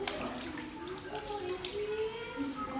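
A tap runs steadily while hands are rinsed up to the elbows, a soft, close splashing stream with faint watery clatter.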